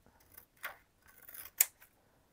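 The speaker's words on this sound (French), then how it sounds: "je vais couper tout simplement un morceau" Scissors cut a piece of sturdy, heavy transparent paper in a few short, crisp snips at close range, with quiet gaps between the cuts.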